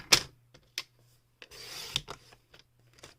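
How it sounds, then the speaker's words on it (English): A piece of cardstock for a card being cut, heard as a few sharp, close snips and a longer rasping slice along the paper, with quiet gaps between, no talking. "Now I'm going to take this other side of this piece and cut it at 4 1/4."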